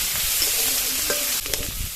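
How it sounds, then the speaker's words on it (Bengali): Prawns, already fried once, frying again in hot oil in a pan, giving a steady close sizzle with a couple of short stirring clatters near the end. "এবার এই তেলের মধ্যে দিয়ে আর ভেজে নেবো"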